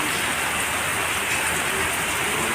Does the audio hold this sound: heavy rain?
yes